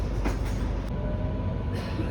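An Airport Express metro train in Delhi runs with a steady low rumble and rolling hiss from inside the carriage, a continuous ride noise with a faint rattle and no talk.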